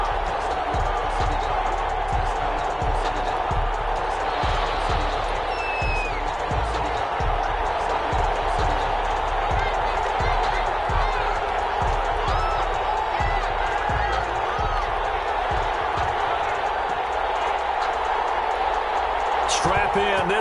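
Steady roar of a stadium crowd in an EA Sports NFL video game before Green Bay Packers vs Detroit Lions, a broad continuous murmur and cheer under a commentator's talk.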